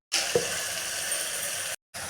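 Green chilies, onions and curry leaves frying in a pan, a steady close sizzle with a brief clink of a utensil near the start, broken by a short cut before the sizzling resumes.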